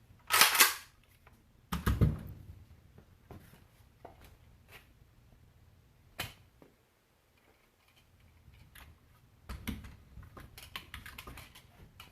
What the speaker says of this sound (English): Back together, and then we'll do a trigger pull test on it.